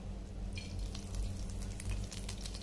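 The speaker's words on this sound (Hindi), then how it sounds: "जो हमने घी डालडा तेल गरम किया था, देखिए भाई किस तरह से डाल रहे हैं ताकि सभी चावलों पर तेल अच्छे से जाए" Hot ghee and Dalda oil poured over layered chicken biryani rice sizzles and crackles steadily up close, a busy hissing fry with small spatters across the whole stretch, no talking.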